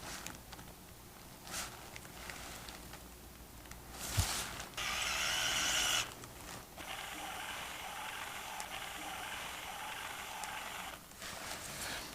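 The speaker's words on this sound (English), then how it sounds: "So I use a power driver to set the screws the majority of the way" A surgical power driver sets screws through a tension band plate during ankle plating surgery: a short whirring burst, then a longer steady whir after a brief pause, with scattered mechanical clicks and no talk.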